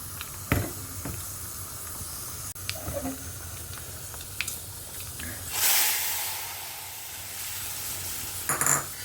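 Mustard seeds, chana dal, urad dal and asafoetida tempered in hot oil are poured over a dish and burst into a sharp hissing sizzle that swells midway, preceded by scattered clinks and taps of kitchen utensils in a quiet home kitchen.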